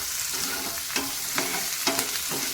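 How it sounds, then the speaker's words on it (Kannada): Tomatoes fry in hot oil with a dense, close sizzle, broken by several soft scraping stirs at roughly half-second intervals, with no talking. "ಇದು ಎಣ್ಣೆಯಲ್ಲಿ ಈಗ ತುಂಬ ಚೆನ್ನಾಗಿ ಫ್ರೈ ಆಗಬೇಕು"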